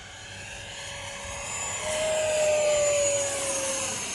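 An E-Flite F-18 Hornet 80mm electric ducted fan model jet's high-pitched fan whines steadily overhead, rising in pitch and loudness midway as it passes close, then holding a sustained shrill tone.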